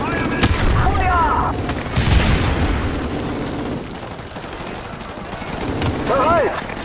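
Gunfire and heavy booms from Call of Duty: Modern Warfare Remastered come in several loud, close bursts, with sharp cracks and rumbling blasts spread across the stretch.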